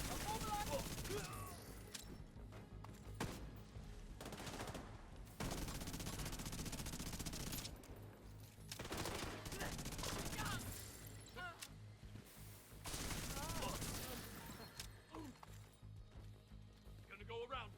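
Dense gunfire from the shooter game The Division 2, with a deployed turret joining in, rattles in sustained bursts with brief lulls as a player calls out orders over the shooting.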